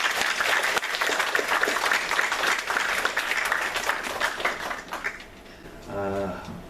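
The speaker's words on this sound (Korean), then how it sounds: "격려의 박수 한번 하도록 하겠습니다" A church congregation at Sunday worship gives a warm round of applause that holds steady, thins out after about five seconds, and is followed by a single voice speaking.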